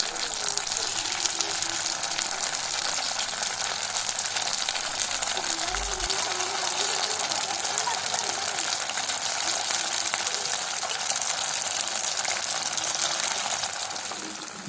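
Small pakora balls fry in hot mustard oil with a steady, dense sizzle that holds close and even throughout, no voices.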